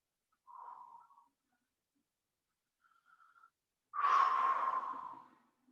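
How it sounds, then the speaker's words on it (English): Breathing during a stretching workout: two faint short exhales, then a louder, longer airy exhale close to the microphone, in an otherwise quiet room. "Lots of good breathing here."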